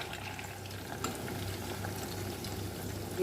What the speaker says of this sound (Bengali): এই জন্য অল্প অল্প করে বাড়িয়ে এইভাবে সবগুলোকে ভেজে নেবো আগে